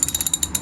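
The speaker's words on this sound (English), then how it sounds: "it turns out I do have a socket that fits these spark plugs." A ratchet socket wrench clicks rapidly through several quick strokes while loosening a spark plug on a Suzuki Bandit 600 motorcycle, giving close, crisp metallic ticks in a steady rhythm.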